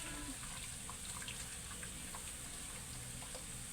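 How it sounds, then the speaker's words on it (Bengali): Drumstick lentil dal poured into a pan of browned fried onions and garlic, giving a steady wet splashing, sizzling wash that runs continuously and fairly faint throughout. "সজনার ডাল এখানে ঢেলে দিলাম।"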